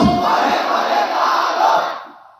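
A large crowd at an Islamic waz gathering answers a takbir call in unison, chanting Allahu Akbar as one loud, sustained roar of voices that fades out at the end.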